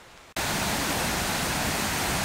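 A small waterfall by a fish ladder on the River Esk in Glen Esk pours in a loud, steady, broadband roar that starts abruptly after a quiet moment and holds without a break.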